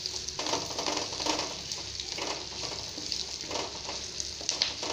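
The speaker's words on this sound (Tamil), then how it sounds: "ஆல்ரெடி வதங்கி வச்சு கத்திரிக்காய் லைட்டாக வதக்கினா போதும்." Brinjal (eggplant) pieces sautéing in hot oil in a pan make a steady, close sizzle with bursts of stirring and scraping throughout.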